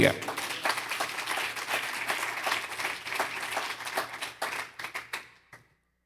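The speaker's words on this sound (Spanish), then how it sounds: "Denle un aplauso al Señor, iglesia." A church congregation applauds together during a service, a dense steady clapping that carries for several seconds before thinning to scattered claps and stopping.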